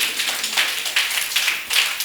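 Scattered clapping from a small audience for a professional coach at a French-language talk show event, a thin uneven patter of hands with a few louder bursts.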